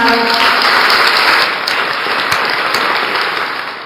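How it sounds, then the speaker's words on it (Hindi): Brief burst of crowd applause, a dense hiss of many clapping hands at steady volume that gradually softens over a few seconds. "तालियों के साथ"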